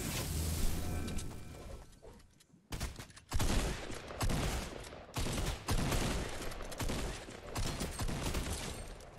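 Assault rifle fire in Fortnite comes in rapid bursts of loud, close shots separated by short gaps, with a brief lull before heavy volleys resume and continue to the end.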